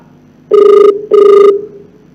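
An unanswered telephone rings twice, loud and close, while calling a village head. The two even bursts are separated by a short pause, with no voices.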